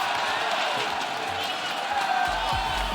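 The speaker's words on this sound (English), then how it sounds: "There's nothing like a crowd at a Rocket League event." A large crowd at a live Rocket League esports event roars and cheers in a big hall, a continuous wash of voices with scattered shouts and a few low thumps.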